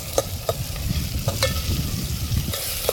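Onions, green chillies and tomatoes fry with turmeric in a pan, giving a close, steady sizzle broken by sharp scraping strokes as they are stirred.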